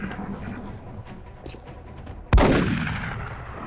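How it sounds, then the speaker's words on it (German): A shotgun blast in the video game XCOM: Enemy Within, one loud sudden report with a long decaying boom that follows a stretch of low background game noise. "wie die mit schafft, mit der Schrotflinte an ihm vorbeizuschießen"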